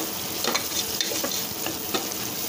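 Onions and green chillies sautéing in a pan, a continuous soft sizzle with scattered crackles and occasional stirring scrapes, faint and close.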